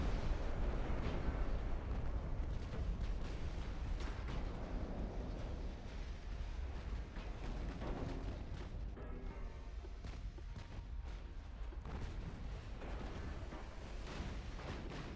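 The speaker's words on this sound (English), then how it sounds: "Torpedoes firing." Torpedoes launching during a naval battle in the warship game Ultimate Admiral: Dreadnoughts, a dense rumble of booming bursts and rolling blasts that runs continuously and loud from start to finish, with no voices.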